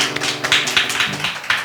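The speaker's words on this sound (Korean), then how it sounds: "박수 한번 주셔요" Church congregation at a Sunday chapel service claps together, a close, loud run of quick hand claps in a steady, slightly uneven rhythm, with no talking over it.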